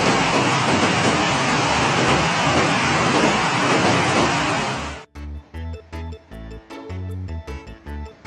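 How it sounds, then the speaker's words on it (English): Heavy rain pours in a dense, steady roar for several seconds during a storm in China, then cuts off abruptly to quieter, uneven thumping sounds. "Ducks and rain."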